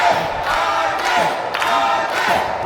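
A pro wrestling crowd cheers in a continuous loud roar, with chanting, yells and whistles layered through the dense noise of the audience.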